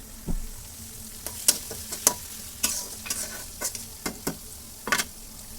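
Chui (chuijhal) stems go into khichuri frying in a pot, a soft steady sizzle broken by a dozen sharp spoon clinks and scrapes from stirring.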